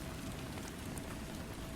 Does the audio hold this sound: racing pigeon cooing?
no